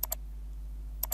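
A computer keyboard is pressed in two quick pairs of crisp clicks, a pair at the start and another after a second of quiet, close and fairly faint over a low steady hum.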